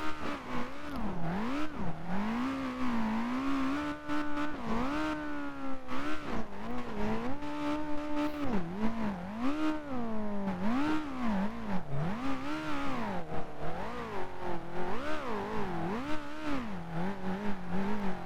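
A Mitsubishi Evo's engine strains in the BeamNG.Drive driving game as its front skid plate digs into desert terrain, revving up and down in repeated surging waves for about eighteen seconds, loud and continuous with no talking.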